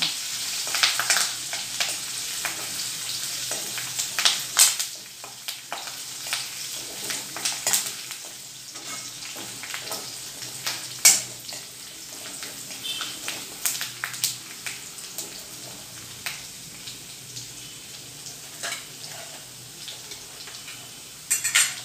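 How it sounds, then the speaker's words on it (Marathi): Garlic fries in a pan with curry leaves until it browns, a continuous light sizzle with frequent crackles and pops and some clinks of a spoon against the pan. No one talks. "छान ब्राऊन कलर होईपर्यंत आपल्याला लसूण भाजून घ्यायची आहे"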